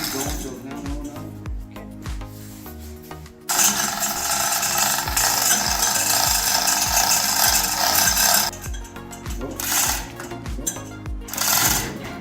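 Chain hoist lifting the engine out of a 1970 AMC Gremlin, with repeated ratcheting mechanical clicks, a steady louder grinding stretch in the middle, and a person talking over it close by.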